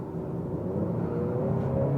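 A 2019 Honda Accord 2.0 Touring sedan accelerates with a steady engine hum rising in pitch, heard from inside the car, continuous and moderately loud, with no talking.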